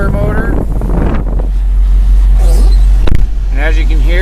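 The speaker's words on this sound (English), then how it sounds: "Let's go and turn on the blower motor." A blower motor in a 2001 Chevy S10 runs with a steady airy whoosh over the idling engine hum, and voices are heard near the start and end.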